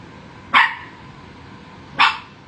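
A pet dog gives two sharp, loud barks about a second and a half apart, close by in a quiet indoor room.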